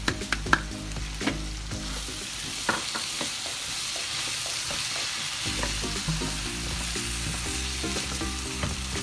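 Qeema karahi frying in a pan with dried fenugreek and garlic, a steady close sizzle with occasional stirring clatter throughout, no talking.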